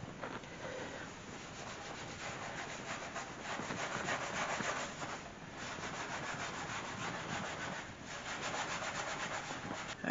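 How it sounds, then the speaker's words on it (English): Steady scrubbing of a surface being cleaned after a squirt of cleaner, rough rhythmic rubbing strokes running continuously up close and fairly loud, with no voices. "And then basically you're just going to just start scrubbing."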